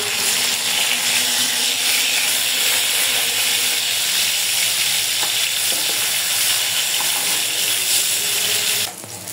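Rohu fish pieces sizzle in hot oil after being flipped, a steady dense crackle close by that runs unbroken for about nine seconds before dropping off briefly at the end.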